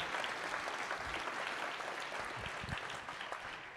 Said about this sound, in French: Je voudrais qu'on applaudisse quand même.